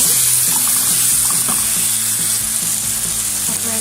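Mushrooms fry in a little olive oil with garlic salt in a nonstick pan, a loud, close, continuous crackling sizzle that holds evenly throughout with faint stirring beneath.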